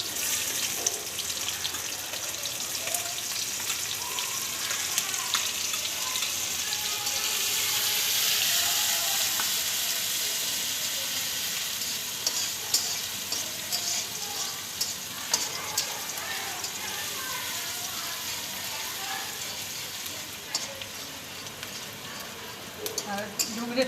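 Chopped onion sizzles loudly in hot oil while being stirred for a Maggi noodle recipe, a dense continuous frying hiss close up with occasional scraping of the spoon.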